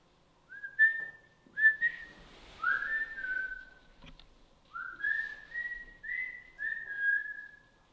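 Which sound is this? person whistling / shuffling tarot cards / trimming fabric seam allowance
person whistling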